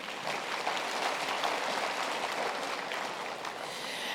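Audience applause at a university graduation ceremony, a steady wash of many hands clapping together, sustained and even throughout with no voices over it.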